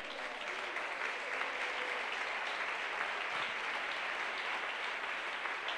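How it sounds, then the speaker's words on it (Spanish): Congregation applauding during a church Sunday school service, a steady, sustained mass of clapping from many people, moderately distant and even in level from start to finish, with no speech over it. "Aplauso al Señor Jesús."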